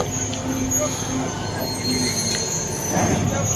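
A track machine presses and lifts a railway rail during repair work in Russia, giving steady loud metallic grinding and squealing with hydraulic strain and faint clanks throughout, no talk.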